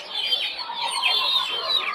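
Tiger chicken chicks at a busy poultry market give a continuous high, overlapping peeping, close and steady, with other fowl clucking in the mix.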